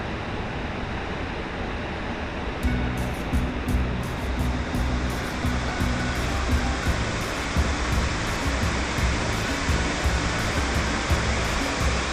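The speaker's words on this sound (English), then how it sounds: "this beautiful waterfall, and a fantastic waterfall" A constant roaring rush of a waterfall in the highlands of Chapada dos Veadeiros, Brazil, broad and steady, with faint rhythmic music joining partway through.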